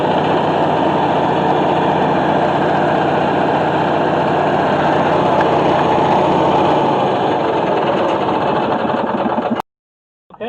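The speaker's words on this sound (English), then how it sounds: "that's all it takes to get a starter going for one of these Onan generators" An Onan generator engine runs on a motorhome after a starter repair, a steady close mechanical drone with a rapid chugging beat that cuts off abruptly near the end.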